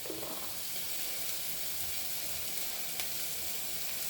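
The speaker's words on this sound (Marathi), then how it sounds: "आता हळद मीठ लावून ना तेलामध्ये तळून घ्यायचं कारले मस्त" Bitter gourd pieces fry in oil with turmeric and salt, giving off a continuous, loud hiss of sizzling close by, with a faint clink of stirring near the end.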